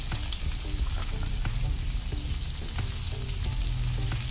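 Bacon and onion fry together in a pan with a dense, steady crackling sizzle up close, punctuated by light taps and scrapes of a utensil, with no talking.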